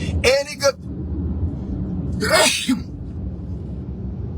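A single sharp sneeze bursts out indoors, followed shortly by a person speaking over a low background rumble.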